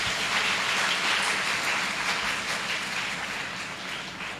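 An audience gives sustained, dense applause at a university Kashmir Day speech competition, with steady clapping that fades slightly toward the end.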